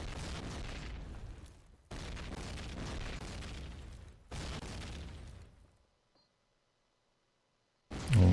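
Grenade blasts in Call of Duty during a competitive match: several loud, sustained booming bursts in sequence, the last cut off, with a stretch of near silence between them.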